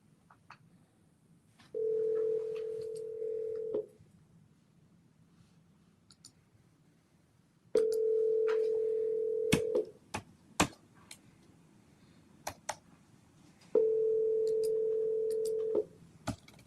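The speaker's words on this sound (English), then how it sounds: "At the tone, please record your message." A telephone voicemail tone sounds three times, each a steady electronic beep lasting about two seconds over a quiet line with faint clicks between.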